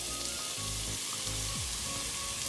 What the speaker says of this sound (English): So I'm going to add my red onion that I cut, my half red onion.